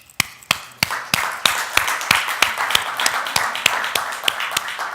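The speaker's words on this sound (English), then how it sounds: "I'd like us to give this person a round of applause" Applause at a private equity leadership talk, heard as a few sharp, distinct claps that quickly build into steady, moderately loud clapping from a small audience lasting about five seconds.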